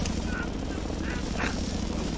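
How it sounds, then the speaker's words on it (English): A helicopter in Batman: Arkham Asylum gives off a steady, loud rotor drone with a continuous thrumming wash that fills the short moment, while a voice speaks over it. "More helicopters? How exciting!"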